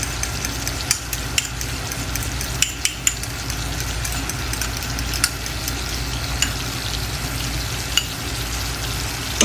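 Egg yolk for yema balls cooking over medium heat in a pan, a continuous loud sizzle broken by repeated clicks and taps of a spoon stirring against the pan.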